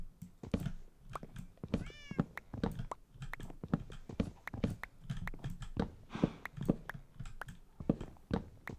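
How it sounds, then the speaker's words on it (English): Cats meowing repeatedly, likely in a video game, with several short mews among steady rhythmic clopping steps, close and clear throughout. "So many kitties."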